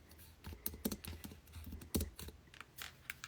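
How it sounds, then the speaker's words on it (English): Irregular bursts of key clicks from a computer keyboard, quick taps with short pauses, close by and fairly quiet. "my computer is behind me, so I'm like typing around it"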